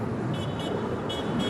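A car horn beeps several times in quick short toots over a steady low road rumble, fairly faint and at a distance, near Los Angeles International Airport.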